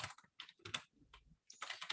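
Quick, close-up tapping on a computer keyboard while code is being entered, uneven clusters of key clicks with a brief pause midway, heard alone without talk.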